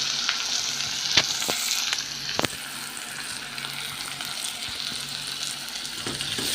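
Onion frying in oil in a home kitchen crackles with a loud, steady sizzle, close by, with a few sharp clinks of utensils early on and no talking.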